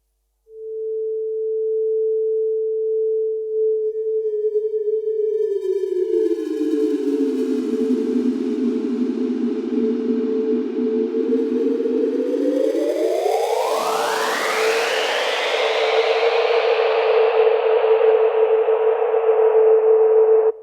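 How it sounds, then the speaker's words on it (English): A steady pure 440 Hz sine tone that gradually smears into a washy, echoing swell as reverb space size changes, then brightens into a loud, roaring reverberant haze. "I take a 440 hertz tone and just adjust the size of the space."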